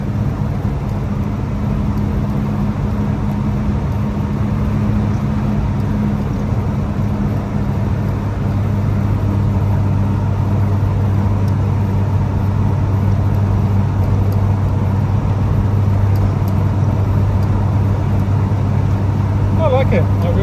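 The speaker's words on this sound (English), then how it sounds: "But the little Ford side valve engine is doing its job." A 1949 Ford Prefect's small side-valve engine drones steadily at close range as the car drives along, a continuous low hum with road noise throughout.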